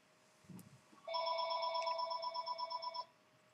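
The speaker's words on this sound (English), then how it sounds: "let's see who's on the phone." A telephone rings with a steady electronic trill lasting about two seconds. It is loud and close, preceded by a brief soft bump, with no talk.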